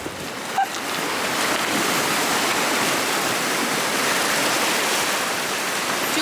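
Steady rushing water from Lake Huron fills the scene as a continuous broadband wash, close and fairly loud, after a brief small knock at the start, with no talking.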